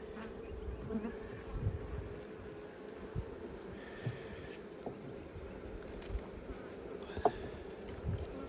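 Honeybees buzz steadily around an open hive during an inspection, with the nectar flow underway, a dense, soft drone with occasional light knocks and frame handling, and no speech.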